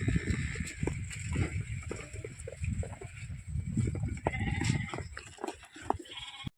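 Sheep and rams bleat repeatedly in a farm shed, several animals calling at once in a dense, continuous chorus close by, with shuffling and movement underneath.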